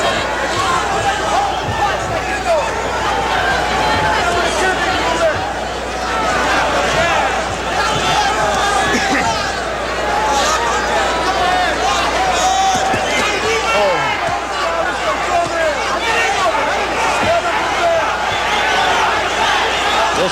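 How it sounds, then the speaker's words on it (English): A boxing crowd at a Chavez–Castillo fight roars in a steady, dense wall of cheering and babble, loud and continuous, with a commentator's voice talking over it. "Listen to the crowd now."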